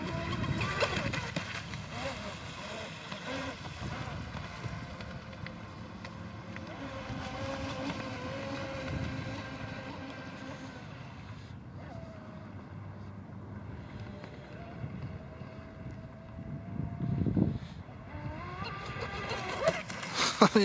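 Proboat Shockwave RC boat with an upgraded 150A ESC on 6S and a three-blade prop, its motor whining at a distance over steady wind noise outdoors, rising louder near the end.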